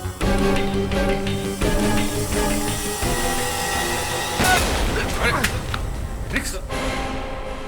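A single loud, sharp gunshot from a pulled trigger on a handgun in a Hindi TV crime drama bursts out about halfway through, set against swelling dramatic music that carries on around it.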